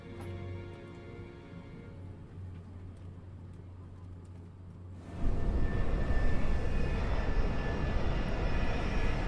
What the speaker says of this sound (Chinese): 女士们、先生们，我们的飞机已经开始下降